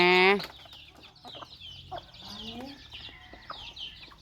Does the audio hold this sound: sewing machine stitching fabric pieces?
no